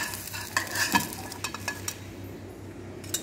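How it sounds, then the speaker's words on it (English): Crêpe batter cooking in a pan over a slow flame, with a steady low sizzle and light scraping clinks of a utensil against the pan, close up and without talk. "cook the pancake on a slow flame until it comes out easily"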